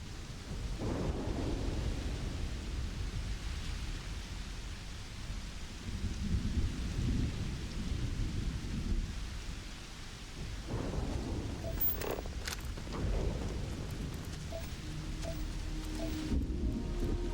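Heavy rain pours steadily while deep thunder rumbles roll through in long waves in the game Starfield, with a few faint clicks and rustles nearby.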